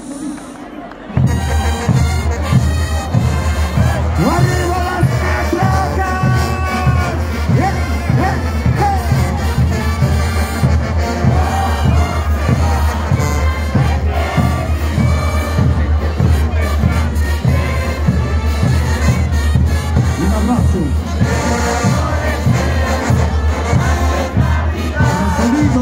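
At a band festival an audience claps and cheers for a band, a sustained crowd roar that sits over steady, loud music with a thumping beat for the whole stretch.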